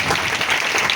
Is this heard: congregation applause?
yes